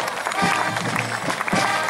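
Crowd applause for the magistrate of Landstuhl during an outdoor knights' procession in Bad Münster am Stein, a steady wash of many hands clapping with a few louder claps and some crowd voices mixed in.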